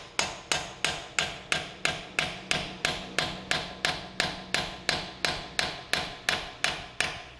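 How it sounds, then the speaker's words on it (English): Repeated hammer blows striking worn brake pad material on a Kia Sportage during a front and rear pad and disc change, about twenty sharp metallic hits at a steady, brisk rhythm, close and loud with no talking. "just use the hammer and use the brake pad material that's there and kind of smash through it"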